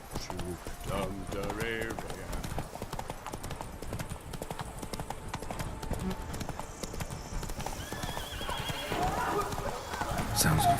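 A horse in The Witcher 3 gallops with rapid, steady clip-clop hoofbeats throughout, a whinny breaking in early on, with game ambience and voices underneath.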